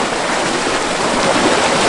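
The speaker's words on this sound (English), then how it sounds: "You can see the force all this water bubbling in right here" Water from the Pisgah National Forest rushing and bubbling into a trout farm's intake trough, a loud, steady broadband roar with no pauses or talk.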